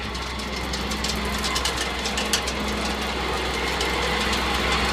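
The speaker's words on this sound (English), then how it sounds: "I'm gonna get my hydraulics on and lift up this loader just a little bit and show you this engine in here" The straight six engine of a New Holland 1046 bale wagon idles steadily close by, a continuous low rumbling drone with faint knocking and mechanical rattle throughout.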